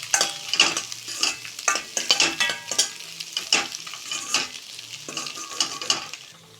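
Boiled eggs frying in oil with turmeric and salt, a hissing sizzle broken by repeated scraping stirs of a spatula against the pan, loud, close and uneven in rhythm.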